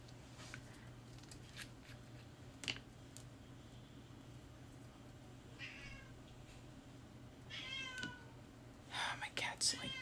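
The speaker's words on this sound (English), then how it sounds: "my cat's like screaming." A pet cat meows repeatedly and insistently indoors, several drawn-out cries rising toward the end, quiet against a low steady room hum with soft murmuring and faint handling noises in between.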